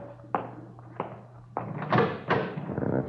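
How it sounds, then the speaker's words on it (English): A door is opened indoors in a radio-drama scene: a few sharp knocks and thumps, then a louder clatter and a swell of broad noise as it swings open, fairly close, with no talk. "want to open the door for a minute?"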